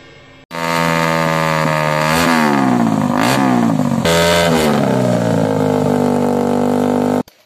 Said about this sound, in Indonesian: pemilik sepeda motor yang menggunakan knalpot bising